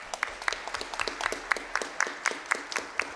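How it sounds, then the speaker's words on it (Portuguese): Sparse, scattered hand claps from a small audience at a solemn chaplains' day session, individual claps spaced irregularly and fairly quiet, with a faint voice briefly underneath. "Palmas para eles, né, gente?"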